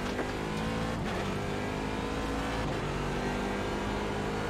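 Race car engines roar steadily and loudly in the iRacing sim during an IMSA race, a near continuous drone with rising and falling revs as the car closes on a pack of slower GTE cars.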